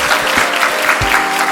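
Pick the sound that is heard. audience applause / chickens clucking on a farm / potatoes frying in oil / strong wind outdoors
audience applause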